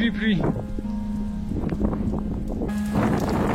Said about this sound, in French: On a un vent de face, il pleut, mais comme de la grêle.